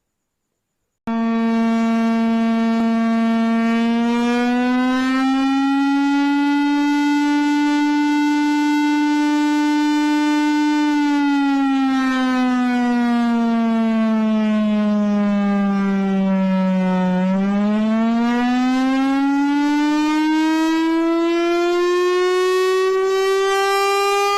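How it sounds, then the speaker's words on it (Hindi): A civil defense air raid siren sounds during an emergency drill, a loud, steady wailing tone that holds, dips and rises again over about 24 seconds with no other sounds. "ये हवाई हमले के वक्त की सायरन का मश्क है।"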